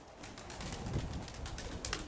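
Faint, low cooing of a pigeon in a quiet outdoor setting, with light rustling and a brief higher chirp near the end.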